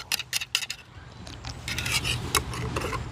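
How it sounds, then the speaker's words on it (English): A spoon stirs apple-flavoured British military MRE drink powder in a cup, making quick clinks and scraping rubs against the sides, close up and without talk. "all that powder is just sat at the bottom of the cup. Let's give that a stir."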